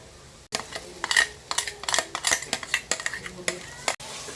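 A ground masala paste being stirred into chicken kulambu in a pan, with repeated metallic scrapes and clinks of a spoon against the pan in a steady rhythm, close and alone.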